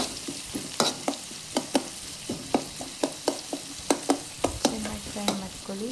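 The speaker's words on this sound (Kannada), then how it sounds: "ಚೆನ್ನಾಗಿ ಫ್ರೈ ಮಾಡ್ಕೊಳ್ಳಿ." Onion and tomato frying in a pan for a beetroot curry, a soft background sizzle punctuated by regular sharp scrapes and taps of a spoon stirring against the pan, close and steady.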